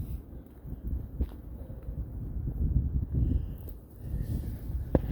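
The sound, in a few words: wind blowing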